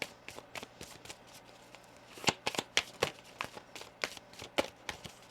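A tarot card deck being shuffled, quick soft riffling bursts that come in a steady irregular rhythm, close by and fairly quiet.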